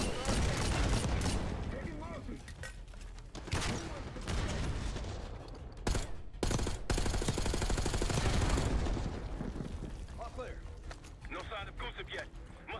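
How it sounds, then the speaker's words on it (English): Sustained machine gun cover fire in the Call of Duty Black Ops 6 campaign, a dense run of rapid bursts with explosions and battle noise mixed in, loud and continuous throughout. "Lay a cover fire. Machine gunner."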